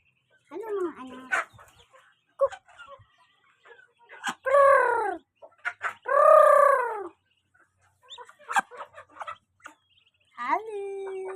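Ducks and chickens on a farm, with quacking and clucking calls in short loud bursts close by, interleaved with someone talking.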